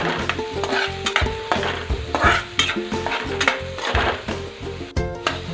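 Onion sautéing in a pan for poha gives a steady sizzle, broken by regular stirring scrapes up close, with background music throughout.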